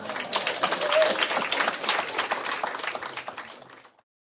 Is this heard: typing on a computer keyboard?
no